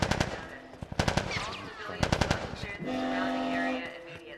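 Rapid bursts of automatic gunfire in the video game The Last of Us Part 1, clattering volleys mixed with shouting voices and a tonal game sound near the end.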